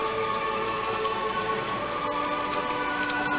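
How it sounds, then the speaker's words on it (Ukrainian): Steady rain patters and hisses continuously over an outdoor football pitch during a match, filling the scene evenly with no voices. "Не зупиняється дощ."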